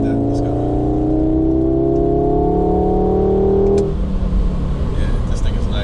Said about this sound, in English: it's got little burbles, as you can hear